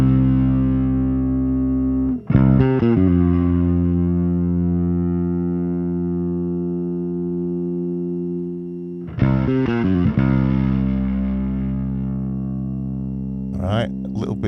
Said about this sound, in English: I'm going to turn the gain up. Gain is what makes it really dirty.